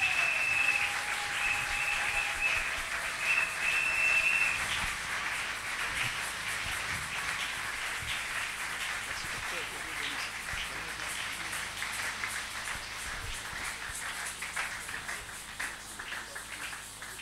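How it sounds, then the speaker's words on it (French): An audience in a church conference hall applauds and acclaims as Dr. Silas Makango is welcomed, a long, steady wash of clapping from a large crowd with faint tonal sounds early, continuing evenly and slowly easing. "nous accueillons l'homme de Dieu, le docteur Silas Makango, sous vos acclamations"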